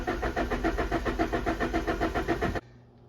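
An old barn-find car that sat unused for 16 years, its starter cranking the engine in a steady rapid rhythm without catching, loud and close, then stopping abruptly.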